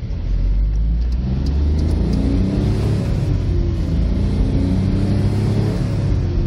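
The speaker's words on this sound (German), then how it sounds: "Hier haben wir Lukas seinen kleinen 41 PS Smart." A small 41 hp Smart car accelerates hard up an Autobahn on-ramp, its engine droning loud and close as the pitch climbs steadily through the gears without a break.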